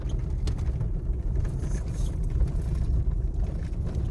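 A vehicle towing a tiny trailer rolls along a rough gravel road in the countryside, giving a steady, close low rumble with gritty tire noise that carries through unbroken.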